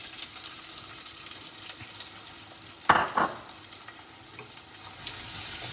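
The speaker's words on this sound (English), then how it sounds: "So I'm going to add onions now." Onions hit hot fat in a pan with one sudden loud hiss, which settles into a steady frying sizzle, close, after a quieter stretch of kitchen background, with no talking.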